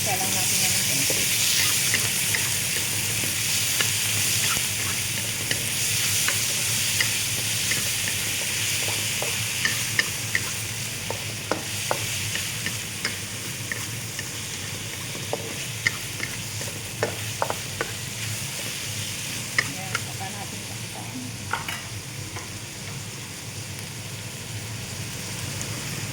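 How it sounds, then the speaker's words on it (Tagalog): Tomatoes sauté in a frying pan for a fish fillet and egg gravy dish, giving a continuous bright sizzle with scattered light clicks and scrapes of stirring throughout. "Gisa lang natin yan ng kamatis."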